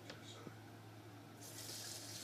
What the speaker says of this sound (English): I'm going to rinse my hand here.